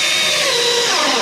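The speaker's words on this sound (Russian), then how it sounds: "отмеряем 60 сантиметров и закручиваем еще один саморез" A power drill drives a self-tapping screw into timber while insulating a log-built house, a loud continuous whirring whine that holds steady for the whole moment with no talk over it.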